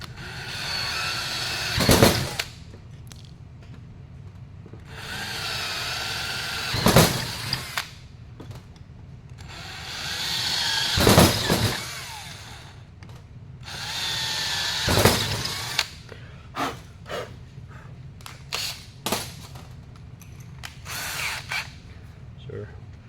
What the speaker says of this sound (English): we're going to use our 1/4 inch drill to drill these 4 holes here